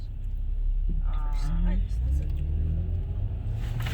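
A car idles and rumbles steadily while waiting at a red light, a low continuous engine drone underneath people talking nearby.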